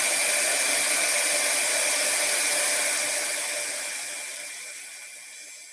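A handheld hair dryer used for crafting blows in a steady, loud whooshing whine close by, then gradually fades as it winds down.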